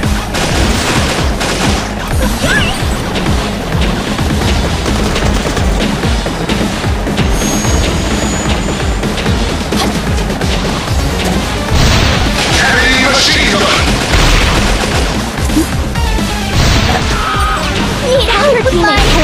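Heavy machine gun fire in the arcade shooter Metal Slug Awakening, a dense and loud barrage of rapid shots with crashes and booms running without a break through a chaotic mix of game sound effects and music.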